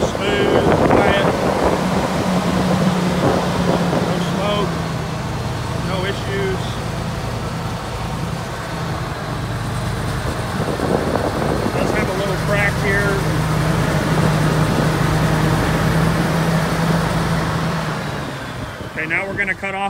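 A 2005 GMC C7509 forestry bucket truck's big engine revving on a cold morning in the 20s, a loud steady roar with rising surges, under wind noise and someone talking.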